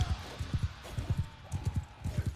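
Horse hooves clip-clopping in a medieval battle video game, a steady rhythmic trot of several close, thudding hoofbeats in regular groups, fairly quiet and alone.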